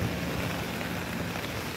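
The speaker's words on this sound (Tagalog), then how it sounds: "at saka umuulan guys, tignan nyo naman" Rain falls outdoors on a street in a steady, dense hiss of broadband noise, even and unbroken, with no voices over it.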